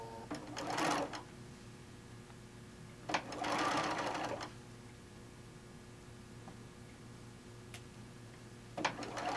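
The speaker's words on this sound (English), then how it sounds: "then we're going to sew these together" A sewing machine stitches quilt charm pack squares together in short bursts, with quiet pauses between runs of stitching.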